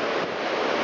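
Sea waves and surf rolling along the shore at Vorontsov Park, a steady broadband wash with some wind noise, close and continuous with no voices.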